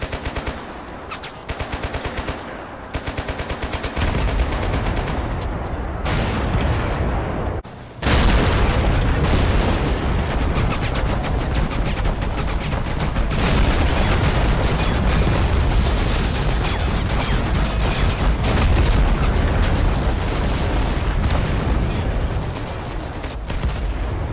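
A 7.62x51 machine gun in the video game Total Conflict: Resistance fires in long, dense, loud bursts, with a short pause near the start and then nearly continuous gunfire with booming impacts.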